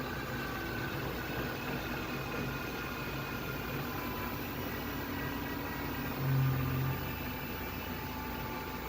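A metal lathe set to low gear at around 200 RPM for knurling hums steadily with a faint broadband whir, one brief louder low hum midway, no talk.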